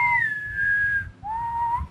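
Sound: whistle imitating the Kushtaka otter man's call

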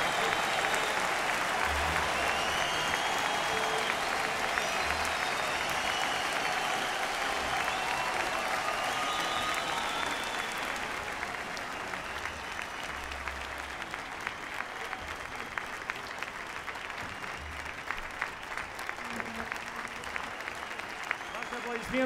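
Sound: audience applause

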